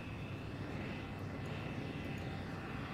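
A steady, droning jet engine roar from a jet aircraft in Civilization 6, constant and unbroken at moderate loudness, with no speech over it.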